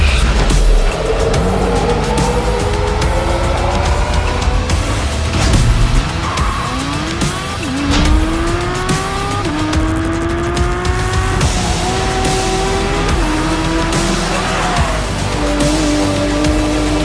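A 2022 Porsche 718 Cayman GT4 RS is driven hard, its engine climbing through the gears again and again with loud rising pitch sweeps, shift breaks and tire squeal, heard from close by and continuously.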